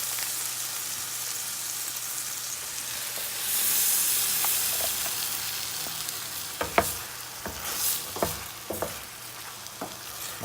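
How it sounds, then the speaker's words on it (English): Gravy poured over already-cooked tofu in a pan for an Indian tofu curry sets off a steady sizzle and hiss, with sharp scraping and stirring clicks toward the end and no talking. "Since tofu is already cooked, we can add the gravy now."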